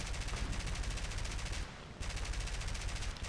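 Rapid machine-gun fire from a Do 217 J-1 bomber in War Thunder, a dense close stream of shots that breaks off for a split second and then resumes just as loud.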